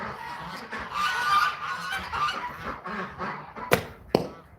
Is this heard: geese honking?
yes